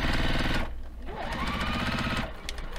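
Juki sewing machine stitching a long basting stitch, a steady loud mechanical whirr and rapid needle clatter that runs continuously and close up, with a brief dip in intensity partway through.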